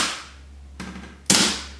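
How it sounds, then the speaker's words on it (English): A staple gun fastening fiber rush to a wooden chair rail while weaving a seat: two sharp close snaps, the second louder, with a faint steady hum underneath. "use our tacks or our staple gun"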